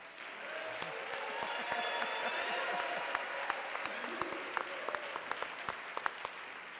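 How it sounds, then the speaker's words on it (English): Applause from an audience at a mayoral education forum honoring a Brooklyn Baptist church, steady crowd clapping throughout at a moderate distance, with a few sharper individual claps standing out near the end. "I assume you're applauding not only for the church"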